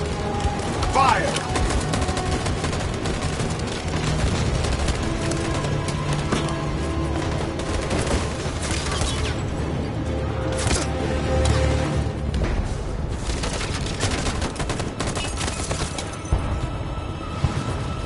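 A gunfire volley in a PS4 video game: a dense, continuous roar of overlapping shots and booms fills the whole stretch, with voices in the clip under the din.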